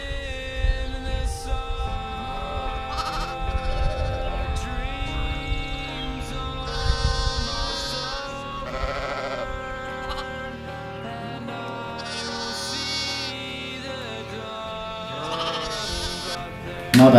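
Lambs and sheep out in a spring field on a farm, with repeated bleats of varying pitch overlapping throughout, some near and loud, others fainter, over a steady outdoor background.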